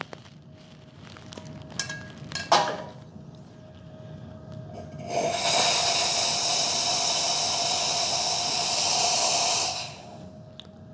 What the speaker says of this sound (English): I'm just gonna run the steam wand.